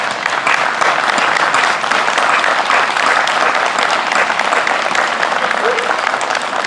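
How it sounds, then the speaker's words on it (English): Audience members at a League of Women Voters school board candidate forum in Red Wing clap for the candidates, sustained and even applause filling the room for several seconds, loud and close with no talking over it. "I hope you'll all join me in a round of applause for our candidates."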